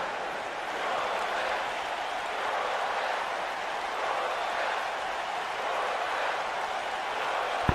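A crowd cheers and applauds in the wrestling video game WWE 2K19, a dense, steady roar of arena noise that holds evenly throughout with no voices over it.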